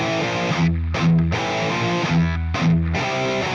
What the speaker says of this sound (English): we're going to play a C5 and a B5